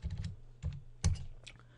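Quiet computer keyboard typing a fastboot command: a handful of separate key taps in short bursts, close and soft, with no talking.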